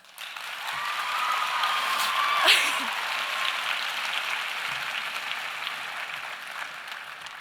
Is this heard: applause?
yes